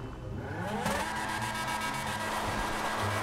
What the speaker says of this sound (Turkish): Sesi daha iyi böyle tam yarış araba sesi yapabiliriz.